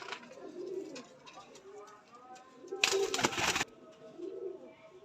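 Soft cooing from a healthy young male pigeon repeats close by under someone talking, with a brief burst of fluttering or handling noise midway.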